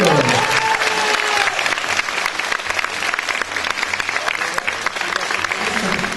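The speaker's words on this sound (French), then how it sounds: "Applaudissements du public, c'est du public." Audience applause at a regional queens' gala, steady dense clapping throughout, with a presenter's voice talking over it.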